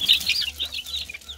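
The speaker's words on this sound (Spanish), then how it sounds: "Esos pollitos son hijos de mi gran gallina Chaquirita" Chickens cluck softly in a quick string of short calls, close by, with no talk.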